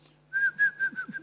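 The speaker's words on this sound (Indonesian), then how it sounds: "Aduh dengar burung tuh." Four or five clear, whistle-like bird notes repeat in a quick, even series, fairly faint, over a low steady hum.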